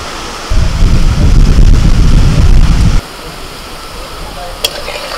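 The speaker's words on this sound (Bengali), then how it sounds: "বলগুলোকে এইরকম একটু লাল লাল করে ভেজে তুলে নিচ্ছি।" Gourd balls deep-frying in oil over a medium flame until reddish, a loud dense crackling sizzle that cuts off abruptly partway through, leaving a quieter low background with a brief click.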